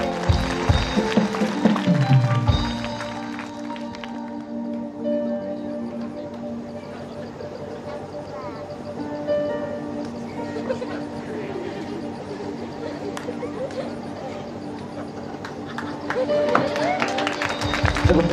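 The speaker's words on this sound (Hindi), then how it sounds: "आप उसके लिए भी जोरदार ताली बजा दीजिए।" Loud, dense applause and clapping from an audience at a Christian youth skit performance, sustained throughout with crowd noise and some shouting mixed in.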